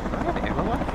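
A helicopter in the military video game Arma 3 gives off a steady, dense rotor and engine roar that fills the whole second with a faintly pulsing rhythm.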